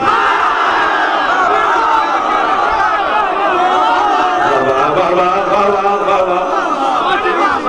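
Crowd of mourners chanting religious slogans together at a Shia majlis, a dense sustained roar of many voices with rising and falling shouted tones, loud and continuous throughout.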